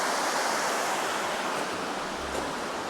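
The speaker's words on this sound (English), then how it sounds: "there's very fast water flowing down there" Fast water rushes through underground culverts at a UNESCO World Heritage site, a steady broadband roar that holds continuous and fairly close with no talk over it.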